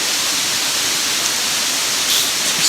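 Steady broadband roar of waterfalls along a forested South Cumberland State Park hiking trail, a constant rushing wash of falling water that stays even and fairly loud throughout with no talk over it.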